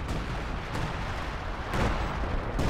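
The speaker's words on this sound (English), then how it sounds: "then the Katyusha goes in, so it says, be afraid, and then we get blown up by a Katyusha rocket" A Katyusha rocket strike in Company of Heroes 2 rumbles as a dense barrage of booming impacts, with several sharp blasts punctuating a continuous heavy roar, loud and without talk.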